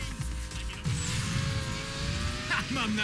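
A car drifting around a race track in the video game NFS Payback, steady engine drone with tire squeal rising near the end, loud and continuous.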